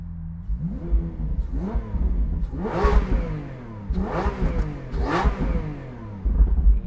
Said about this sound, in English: I'm going to do some static revving here because obviously you can see the car is warm